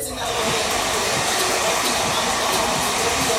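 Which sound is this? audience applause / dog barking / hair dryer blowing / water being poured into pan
hair dryer blowing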